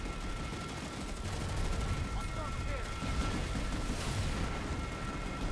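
Sustained gunfire in the PS4 shooter Planetside 2, a dense continuous barrage of shots and booms throughout, with a voice talking over it.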